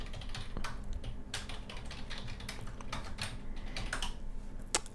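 Rapid clicking keystrokes on a computer keyboard, close and fairly quiet, in irregular bursts with short pauses, against a steady low room hum and no talking.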